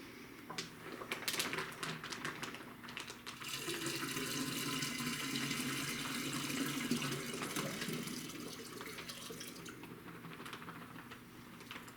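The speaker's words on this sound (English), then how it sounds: "I want to get as much of that juice out of that bag as I can get" Grape juice from a Winexpert Merlot wine kit bag drains steadily in a continuous watery pour, like liquid running into a vessel, with small handling clicks at the start; no one speaks.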